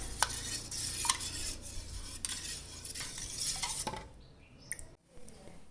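Bael fruit juice with jaggery being stirred in a metal vessel, a close run of repeated scraping, swishing strokes with light clinks of the utensil against the pot, which stop near the end.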